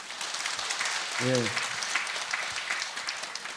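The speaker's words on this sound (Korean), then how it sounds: "박수 한번." A temple congregation at Jogyesa breaks into steady, crowd-wide applause during a Buddhist dharma talk, a dense wash of clapping that lasts throughout, with one short spoken reply.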